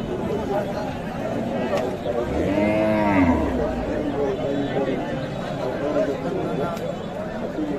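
A bull lets out one long, loud moo at a rural cattle market in Thakurgaon where local bulls are being bought and sold, rising over a steady background of crowd chatter and someone talking.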